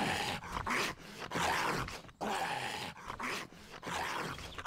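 A chihuahua in the video game Project Zomboid growls in repeated, close, fairly loud bursts broken by short pauses, with no talking.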